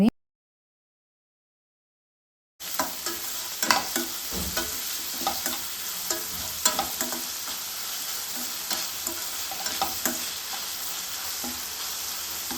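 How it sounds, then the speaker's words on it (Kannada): Vegetables sizzle and fry in hot oil for upma, a steady dense crackle that starts abruptly after a silent opening and carries on with scattered clicks of stirring against the pan. "ತರಕಾರಿ ಎಲ್ಲ ಚೆನ್ನಾಗಿ ಆಯಿಲ್ನಲ್ಲಿ ಫ್ರೈ ಆಗಿದೆ"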